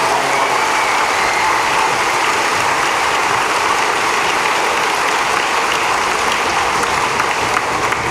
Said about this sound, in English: Let's give our staff members one more big round of applause